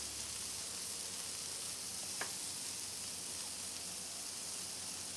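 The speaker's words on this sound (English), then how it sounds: "These burgers don't take long at all to cook." Quiet, even sizzle of burgers frying on a Weber Ranch Kettle grill, a constant hiss with one brief crackle partway through, no voices.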